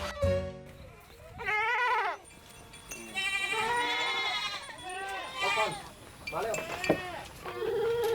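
Several goats bleat repeatedly and fairly close by as they are let out to graze on a farm. Their wavering calls overlap, with a few light metallic clinks in between.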